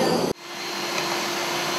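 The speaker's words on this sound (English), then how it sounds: "You can hear the air going through the hole." A loud rushing hiss cuts off abruptly, then a steady whooshing suction of air drawn through a hole by a vacuum returns and holds, with a faint whine running underneath, at a glass design workshop.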